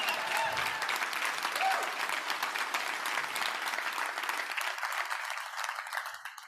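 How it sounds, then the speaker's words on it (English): An audience applauding loudly and steadily, the clapping fading out toward the end. "I thought you guys would clap for that one"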